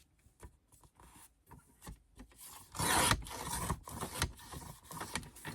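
Paper being cut for a scrapbooking bottle label, a dry rasping and scraping with short strokes that build into a louder, longer rub near the middle, close and alone.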